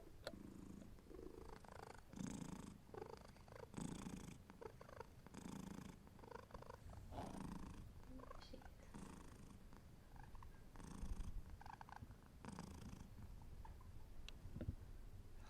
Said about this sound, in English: always good to start with some kitty purrs